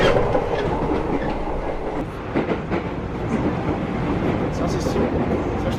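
Inside a moving Jakarta commuter train wagon, a continuous loud rumble and rattle of the rail car carries on throughout, with a faint clatter of wheels over the track.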